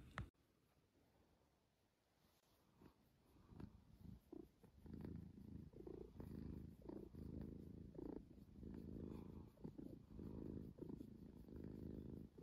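A pet cat purring close by, a steady low rumbling throb that swells and continues without break through most of the stretch after a quieter start.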